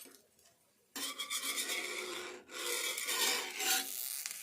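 Mixed millet dosa batter spread across a hot pan, a steady scraping rasp that kicks in abruptly and keeps going with a brief dip midway, close and fairly loud with no talking.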